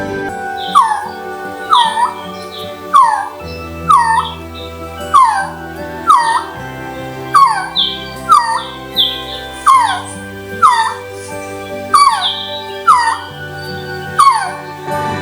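A male quetzal in cloud forest calling to attract a mate: a steady series of about a dozen clear, falling, whistled yelps at regular intervals, loud and close.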